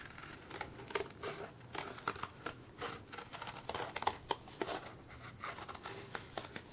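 Scissors cut a shape out of folded board, giving a run of close, crisp snips and scraping crinkles at an uneven rhythm, fairly faint and with no talking.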